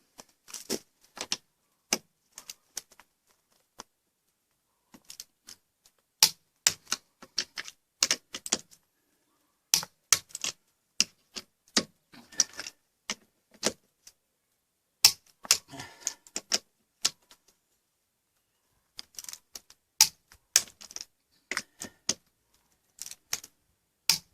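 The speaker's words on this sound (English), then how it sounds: "we use a torque wrench, torque all the nuts up to 110 Newton meters" A torque wrench tightens the wheel nuts to 110 newton meters on a diesel Ford Mondeo MK4, producing bursts of sharp ratcheting clicks separated by silent pauses, close and crisp with no voices.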